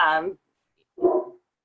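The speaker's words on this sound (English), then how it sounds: "you guys can probably hear my big dog barking" A big dog barks twice indoors, two short, loud, clear barks with a brief pause between them.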